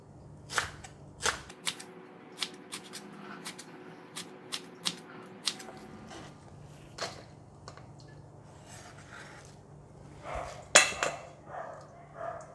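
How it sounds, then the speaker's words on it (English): A knife cuts a leek into very thin slices on a board for leek and potato soup, giving a run of sharp, close chops at an uneven rhythm, with a few scattered taps later. "So I'm just going to cut it very thin slices"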